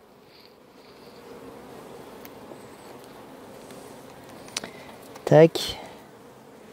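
Honeybees hum steadily around an opened hive during a colony inspection, a soft, continuous close buzz with a few louder bursts near the end and a brief spoken word over it.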